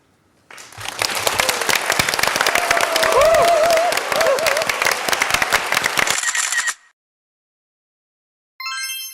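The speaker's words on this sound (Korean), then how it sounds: "박수로 맞아주십시오. 대한민국의 대통령이십니다." A crowd applauds to welcome South Korean president Roh Moo-hyun, with a burst of dense, loud clapping and some raised voices lasting about six seconds, then cutting to silence before a brief tonal sound.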